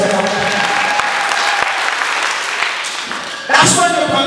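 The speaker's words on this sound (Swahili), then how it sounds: "Ongeza makofi kwa Yesu Kristo akasema." A church congregation at a Sunday service claps for Jesus Christ: loud, sustained applause from many hands, with a sharper burst of cheering near the end.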